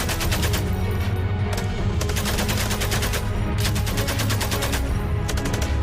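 Rapid continuous bursts of machine gun fire, about 1000 rounds per minute, dense and loud, with overlapping rattling shots throughout and no speech.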